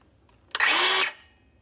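A DeWALT cordless power tool from a ToughSystem kit whirs loudly for about half a second, then the electronic brake stops it abruptly and the sound fades quickly.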